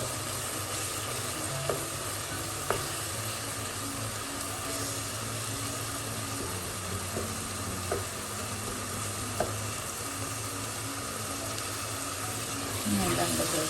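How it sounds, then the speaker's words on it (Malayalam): Ground fennel and cumin are stirred into hot oil in a frying pan for chicken biryani. A steady, close sizzle runs throughout, broken by occasional light scrapes and taps of a spoon against the pan. "അതും കൂടെ ചേർത്ത് അത് ഓയിലൊന്ന് മിക്സ് ചെയ്യും"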